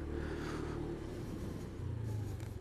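A Honda Genio ISS motor scooter engine drones steadily under load climbing a steep hill, a low strained hum that deepens slightly toward the end as it labors uphill.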